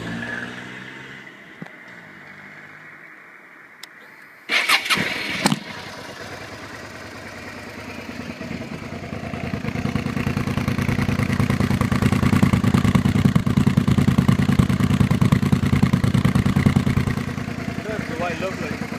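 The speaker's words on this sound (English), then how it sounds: "I'll crank it up so you can hear the exhaust." A 2007 Suzuki SV650S motorcycle with unbaffled exhaust cranks, fires up with a sharp burst, then settles into a loud, rough idle that swells into sustained revving near the microphone, with a voice faintly heard early on.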